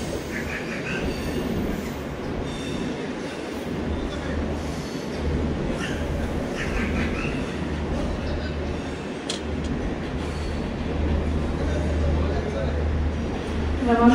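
A passenger train at Mumbai Central station on a journey toward Gujarat gives off a steady low rumble throughout, with voices talking over it.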